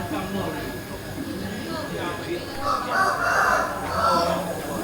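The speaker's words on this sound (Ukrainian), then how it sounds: "Петухи, кури." Roosters crowing among chickens in a residential street in central Hanoi, a couple of crows rising in the second half, moderately close, amid steady street ambience.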